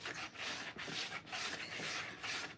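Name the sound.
rubbing paper onto a hardcover journal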